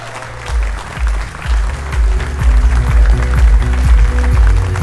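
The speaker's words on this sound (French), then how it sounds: "Je vais vous demander de l'applaudir très fort." Audience applause at a sailing race prize giving, clapping for a sailor, with loud low thumps and rumbling handling noise over a dense, steady patter.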